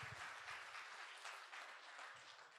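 An audience at a Maithil community event in Vadodara claps steadily to welcome a speaker on stage, a sustained wash of many hands, fairly faint and continuous throughout.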